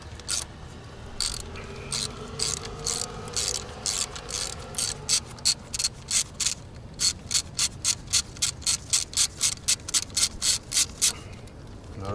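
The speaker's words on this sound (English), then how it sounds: "right now I'm going to remove the coils, and we're going to change all the spark plugs" A ratchet clicks in quick repeated strokes while the ignition coils are removed from a 2011 Toyota Camry Hybrid engine, bursts growing more regular and steady toward the end, close and fairly loud against a quiet workshop.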